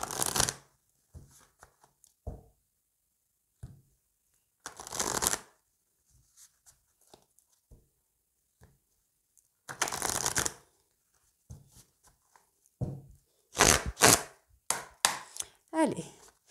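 Oracle cards shuffled by hand in several brisk, fairly loud bursts separated by quiet pauses, with a few faint soft handling sounds in between.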